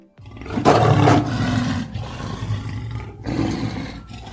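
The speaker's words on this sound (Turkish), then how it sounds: "Aslanlar böyle ses çıkarır." A lion's deep, rumbling roar swells loudly, then trails into lower growls before a second roar rises near the end. No voices are heard.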